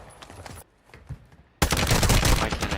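Gunfire in Call of Duty Warzone 2, a quick burst of shots followed by a short lull with faint pops, then a loud, dense volley of rapid automatic fire, with no voices.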